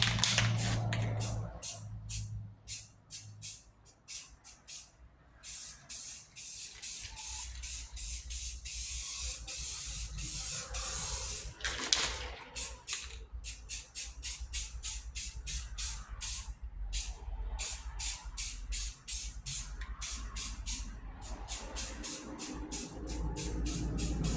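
Spray paint dusted from above onto a 1951 Plymouth body to build a faux patina, heard as a long run of short, close hissing bursts with brief gaps between them and no talking.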